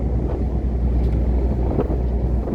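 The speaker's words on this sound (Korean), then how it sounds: "파도가 높아서 빗방울도 약간 치고 항구에서 점점 멀어지고 여기 파도의 그 하얀 물살" A boat crossing the Aegean Sea in high waves, strong wind and light rain, heard as a loud continuous roar of wind buffeting and rushing water with low engine rumble and no talking.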